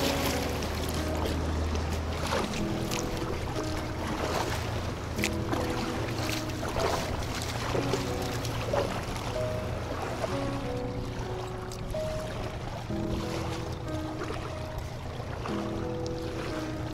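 A kayak paddling on city water in Kaliningrad, with rhythmic paddle strokes and splashes repeating over steady ambient hum and water noise, close and continuous throughout.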